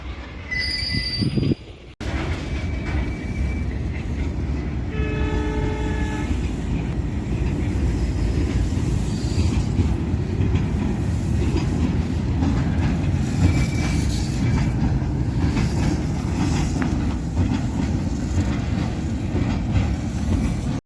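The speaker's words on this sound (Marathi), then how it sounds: "आपण आता ही ट्रेन चालली आहे" A goods train rolls along steadily with a continuous low rumble and rattle, its wheels squealing in high tones early on.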